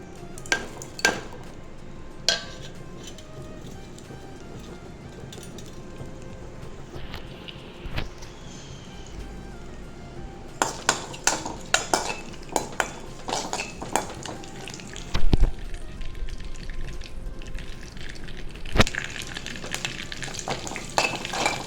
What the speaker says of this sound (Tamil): இப்போ கடுகு, கருவேப்பிலை எடுத்து வச்சுருக்கோம், அதெல்லாம் எடுத்து போட்டுக்கலாம்.